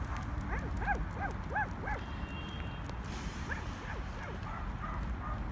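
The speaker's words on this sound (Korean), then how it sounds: "어디서 강아지 소리 나는 것 같지 않아?" A dog barks outdoors during a walk, giving two bursts of several quick, high yipping barks at moderate distance over a low background rumble.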